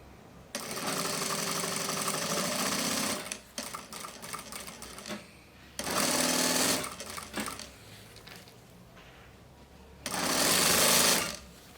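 A sewing machine joins pieces of kitchen towel fabric right side to right side in a simple seam, running in three loud, steady bursts of stitching separated by quiet pauses.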